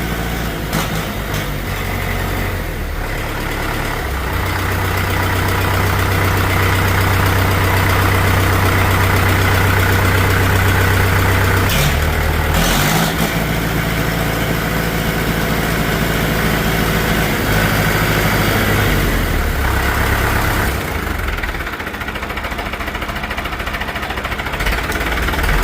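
A Farmall Super MTA Turbo tractor engine idling up close, a loud steady low rumble with a constant throb that dips briefly and then settles back to an even idle.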